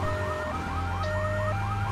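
A wailing ambulance siren in the video game GTA 3 cycles up and down repeatedly over a low engine drone, loud and close, with no voices.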